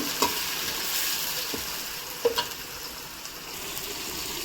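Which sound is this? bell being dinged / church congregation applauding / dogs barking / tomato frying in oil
tomato frying in oil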